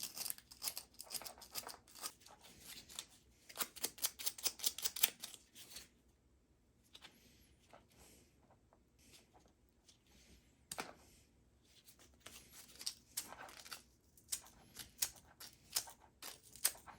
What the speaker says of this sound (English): I'm going to sandpaper each of these contacts just to make sure we got good clean connections